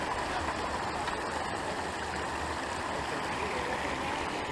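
A mountain stream at a water-refill spot on a Patagonia trek rushes steadily in a continuous, close, broadband wash of flowing water, with no voices.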